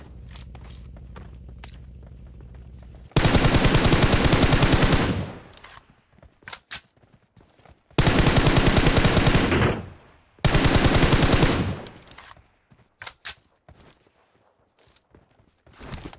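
Long, loud bursts of automatic gunfire from a battle royale shooter game, PUBG, with three sustained volleys separated by footsteps, scuffs and short single shots.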